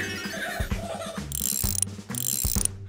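A wrench turning gears in a cartoon garage, producing a quick series of ratcheting clicks and clanks with mechanical rattling, close and fairly steady.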